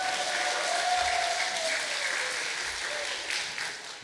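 Audience applause at a literary festival performance, a steady wash of many hands clapping at moderate distance, continuous for several seconds and slowly tapering off.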